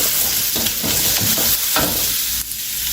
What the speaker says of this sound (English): This time let your fire to be hot, really hot, because it's quick stir fry.